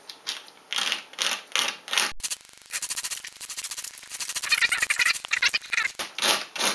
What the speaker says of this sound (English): 60 or 80 sandpaper, and this is the best grit for grinding down such material.